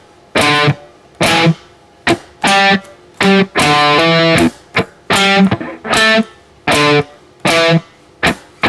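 Distorted electric guitar plays the verse and intro riff, loud, in choppy rhythmic bursts of chords separated by short gaps, alone with no voice.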